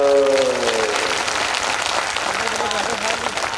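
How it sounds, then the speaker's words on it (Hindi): An audience claps during a devotional religious storytelling gathering, a dense, even patter of many hands that follows a brief voice at the start and carries on steadily to the end. "अगर ताली बजाने तो थोड़ी जोर से बजा दो।"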